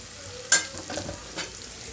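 Thinly sliced green chillies fry in a pan with a soft continuous sizzle, punctuated by one sharp metallic clink of a utensil and a couple of quieter stirring scrapes.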